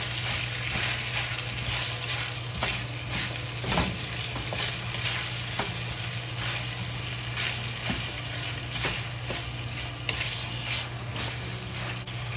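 Cut onion frying with sliced beef in a pan for cumin beef, a steady close sizzle with a low hum beneath and intermittent scrapes and clacks of stirring throughout.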